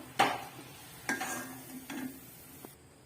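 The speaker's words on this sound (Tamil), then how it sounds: "அடுத்ததாக இருக்கிற பஜ்ஜியை ஒன்று ஒன்றா இதில் இறக்கிடுவோம்" Raw banana bajji dropped into hot oil one at a time, giving three or four sharp sizzling bursts with light utensil clinks between them, close and moderately loud with no talking.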